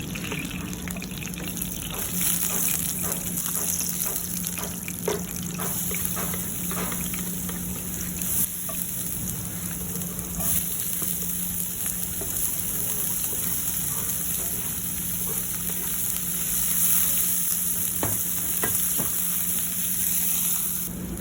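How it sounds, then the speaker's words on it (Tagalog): Aromatics saute in the same pan used earlier for chicken, a steady loud sizzle and hiss running throughout with occasional utensil scrapes and taps. "Same pan, gisa natin yung aromatics."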